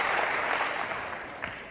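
Crowd at a classic archive wrestling match between John Naylor and Robby Baron cheers and applauds steadily, a dense wash of clapping and shouts that holds loud throughout and eases slightly near the end.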